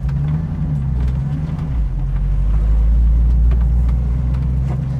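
A 1967 Pontiac Firebird rumbles in low gear on a rough, ungraded road, its deep engine drone loud and close with steady rattling and bumping from the rough surface.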